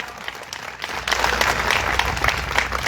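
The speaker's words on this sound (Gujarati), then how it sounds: "એકવાર જોરદાર તાળીઓ, બે ઊંચા રાખીને તાળીઓ પાડો" Crowd applause at a community get-together meeting in Lunawada, starting softer and swelling into dense, loud clapping from many hands at close range.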